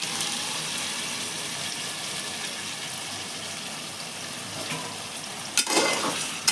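Tomato puree going into a hot frying pan and being stirred, a steady sizzle with scraping spoon strokes throughout and a few sharper clanks near the end, no talking.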